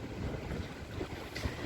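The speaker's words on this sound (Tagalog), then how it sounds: "Lakas ng hangin ngayon at nagtago kami rito dahil nga malakas ang hangin at malalaking alon" Strong wind buffets the microphone over a steady roar of sea and large waves at an island anchorage, rumbling low and continuous throughout.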